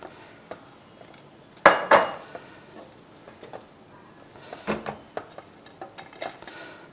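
Pots, bowls and cutlery clatter in a home kitchen during Sankranthi cooking, with a few sharp metallic clinks and knocks, some louder and close, spaced irregularly over quiet background.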